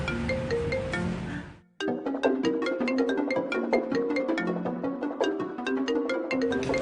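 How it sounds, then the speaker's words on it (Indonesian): A phone ringtone rings in a steady melodic pattern, stops briefly, then rings again repeatedly, left unanswered, clear and fairly loud with no one speaking. "itu ada telepon kok nggak diangkat sih?"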